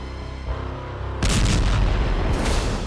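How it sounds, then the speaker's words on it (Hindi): A missile strike explosion near a nuclear power plant, caught on CCTV: a quiet low rumble gives way at about a second in to a sudden loud, sustained broadband roar of blast noise that continues to the end. "जिसमें एक मिसाइल आते दिख रही है और उसके बाद धमाके की रोशनी नजर आती है।"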